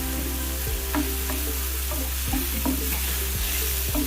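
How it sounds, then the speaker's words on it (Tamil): Tomatoes and onions sautéing with salt and turmeric for a dhaba-style capsicum and peas masala, a steady close sizzle broken by repeated scraping and stirring strokes of a utensil in the pan. "சேர்த்துட்டு நல்லா வதக்கி எடுத்துக்கலாம்."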